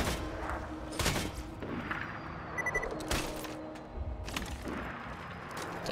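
Sniper rifle fire in the video game Borderlands 2, a few sharp loud reports at irregular intervals over a busy bed of game noise and effects.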